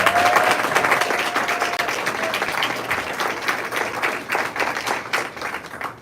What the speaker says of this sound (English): Please join me in giving another round of applause to these amazing honorees this evening.